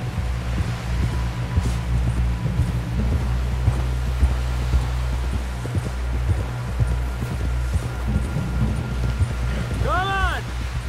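Horse hooves from Red Dead Redemption 2 clatter in a steady rhythm under wind and game music, with a character talking over the ride.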